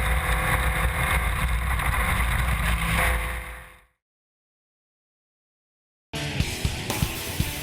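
Spec Racer Ford race cars in a 2011 SCCA Pro Racing series at Road Atlanta, a loud sustained engine roar with wind buffeting that cuts to silence, then resumes sharply.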